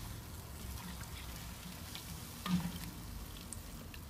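A pot of lamb bhuna curry bubbles and sizzles quietly after water is added, a faint, steady crackle with a few soft pops and clinks, no talking.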